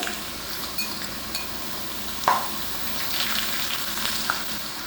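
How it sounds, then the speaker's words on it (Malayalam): Ginger sizzles in hot oil with a steady crackling fry and occasional light clinks of a utensil against the pan. "എണ്ണ ചൂടായി വരുമ്പോൾ നമുക്ക് ഇഞ്ചി ഇതിനകത്തേക്ക് ഇട്ട് കൊടുക്കാം"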